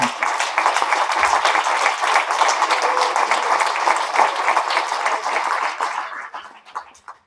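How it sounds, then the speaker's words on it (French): A crowd at an association's extraordinary general assembly breaks into steady, moderately loud applause that holds for several seconds, then thins out and fades to a few scattered claps. "je pense qu'on peut vraiment l'applaudir et le remercier"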